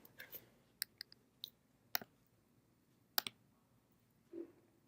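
Computer mouse clicking, a handful of sharp, faint clicks spaced irregularly over a few seconds in a quiet room, with no speech.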